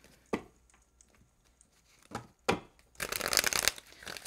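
Oracle cards are handled with a few soft taps and flicks, then riffled in a dense, papery shuffle near the end, close and clear in a quiet room.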